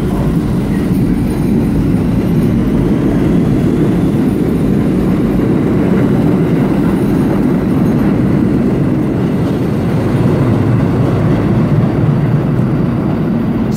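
An NYCT R68 subway train rolls along at rush hour with a steady rumble and faint clickety-clack of wheels on track, loud and continuous for the whole stretch.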